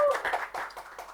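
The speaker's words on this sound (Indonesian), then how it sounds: "Oke, tepuk tangan untuk Bu Ica." Brief clapping for a guest on a Freud and psychoanalysis true-or-false talk show, a quick, close burst of hand claps with a voice mixed in at the start.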